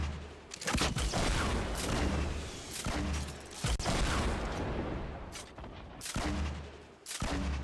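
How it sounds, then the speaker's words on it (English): Rocket launcher blasts in a Fortnite Battle Royale fight, several sharp booming explosions spaced a second or two apart, each with a rumbling tail, loud and close with no talk. "it's going to be a rocket on rocket fight"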